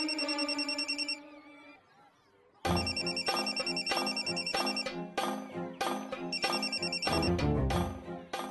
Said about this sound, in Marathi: अहो म्हात्रे, किती वेळ फोन उचलायला?